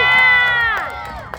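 A youthful crowd at a BMX bike show lets out a loud, high-pitched cheer that swells and then tapers away over about a second.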